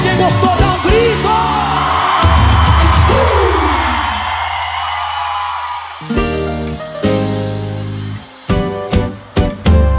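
A live show audience yells, whoops and cheers loudly together, a dense roar of crowd voices with sharp bangs and bursts of music cutting in and out toward the end.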